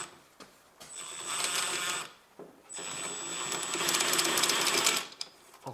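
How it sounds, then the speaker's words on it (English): An electric driver whirs in two sustained bursts while loosening a drive shaft bolt on a Honda Civic 1.8 R18A1, close and moderately loud, with short pauses between runs. "Now I rotate that, and I can use also my electric driver."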